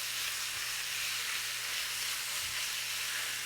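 Marinated chicken sizzling in a hot pan, cooked without added oil, produces a steady, dense, hissing sizzle that holds even and close for the whole stretch, with no talking.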